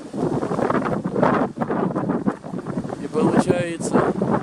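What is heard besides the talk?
very strong wind blowing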